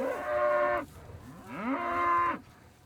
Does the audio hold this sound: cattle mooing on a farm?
yes